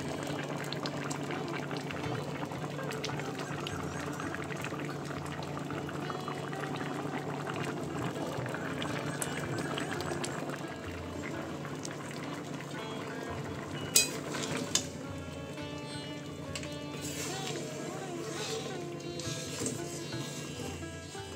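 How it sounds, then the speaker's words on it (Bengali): Lentil dal with bottle gourd simmers and is stirred in a pot after ghee and garam masala are added, a steady bubbling hiss with a few clinks of a utensil against the pan. "এখানে ঘি আর গরম মশলা দিয়ে আমি একটু নাড়াচাড়া করে একটু ঢেকে রাখবো"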